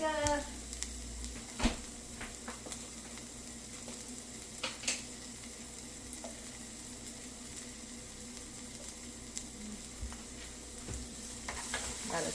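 Garlic sizzles and fries in a pan while a utensil stirs it, a steady close crackle with occasional scraping clicks, cooking for a mushroom, bean, quinoa and kale salad.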